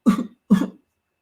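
Two short, close coughs in quick succession, then silence.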